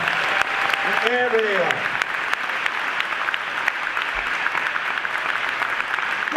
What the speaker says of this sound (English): we give all of our elders a big round of applause